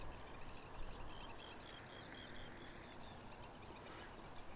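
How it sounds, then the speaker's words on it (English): Faint chirping bird calls by a pond on Cyprus repeat softly over a steady outdoor hiss, distant and intermittent. "I hear a couple of birds making noise."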